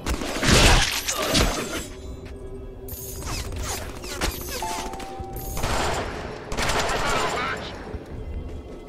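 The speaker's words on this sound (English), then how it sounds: "A machine gun!" Bursts of machine-gun fire and other gunshots crack out in the Deadpool video game, loud and close, in several rapid volleys with gaps of clanking mechanical noise and voices between them.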